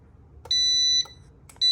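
An EENOUR two-station tumbler heat press timer sounds its alarm: two loud, high electronic beeps, the first held about half a second, the second starting just after a short gap, with faint clicks before each.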